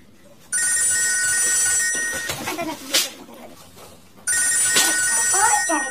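A telephone rings in two loud, close bursts of electronic trilling, separated by a pause in which a person talks and moves about.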